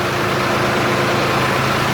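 A Sonalika or Deutz farm tractor runs in low range second gear at 1000 RPM, powering heavy equipment from its PTO. Its engine gives a loud, steady, close drone with no break and no voices.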